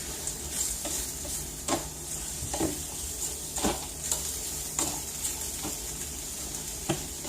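Rice stirred and toasted in a pan: a soft steady sizzle beneath regular scraping strokes of a spoon against the pan, roughly one each second.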